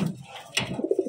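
Pigeons coo in soft, low, rounded notes up close, a short bubbling run of calls with no talking.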